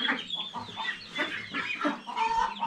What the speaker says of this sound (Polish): Kaczki, ale wy to zamieszanie robicie zresztą.